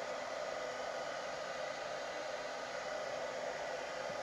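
Hair dryer blowing air in a steady, broadband rushing hiss, continuous and moderately close, with no voices over it.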